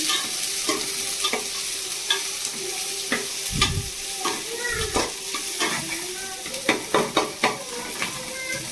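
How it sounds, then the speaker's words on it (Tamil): Onions sautéing in a pan for a bitter gourd kuzhambu, with a steady sizzle under repeated scraping stirs and clinks of the spoon against the pan, the strokes getting sharper and more frequent toward the end. "நல்லா வேகிற வரைக்கும் நல்லா வதக்கிடலாம்."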